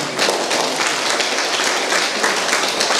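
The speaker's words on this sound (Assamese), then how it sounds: "সকলোৱে হাত চাপৰি মাৰা মেমৰ কাৰণে" An audience claps for a teacher at a school awareness programme, a dense, sustained round of applause filling the whole moment at close range.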